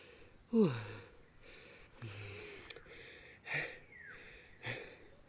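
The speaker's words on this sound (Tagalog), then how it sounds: "Hinihingal ako. Hindi na ako sanay umakyat sa mga ganito." Someone out of breath after climbing uphill, a few wheezy gasping breaths spaced roughly a second apart, close and quiet, with faint insects chirping in the background.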